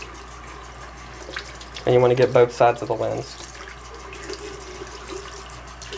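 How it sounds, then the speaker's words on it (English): Semi-warm tap water runs over a pair of eyeglasses in a short burst of splashing near the middle, under a person talking who is close by. "So first you're going to want to run your glasses underwater."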